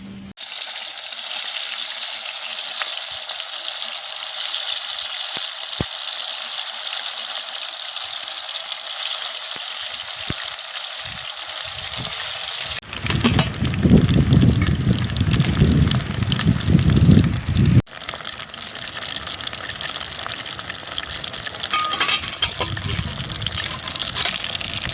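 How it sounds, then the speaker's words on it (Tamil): Chicken 65 pieces dropped into hot oil for deep-frying: a steady loud hiss runs throughout, then swells into a heavier bubbling roar as the marinated pieces go in, with crackling continuing close by. "இப்போ ஒன்று ஒன்றா போட்டு பொரித்து எடுத்துடலாம்."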